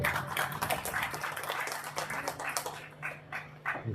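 An audience at a formal Indonesian gathering of religious leaders applauds, a faint, scattered patter of hand claps that swells and thins over a few seconds.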